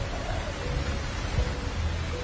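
Typhoon storm at an airport crash site, with heavy rain hissing steadily and strong wind rumbling low and constant throughout, dense and unbroken with no voices.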